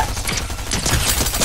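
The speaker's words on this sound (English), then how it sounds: "I'm missing all my shots" Rapid gunfire from Fortnite, a busy stream of close, overlapping shots with no clear gaps, forming a dense burst of weapon fire.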